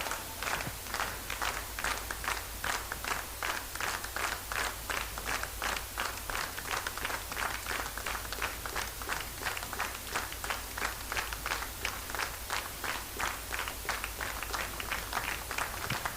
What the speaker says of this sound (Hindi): वंस अगेन सर के लिए एक जोरदार तालियां हो जाए।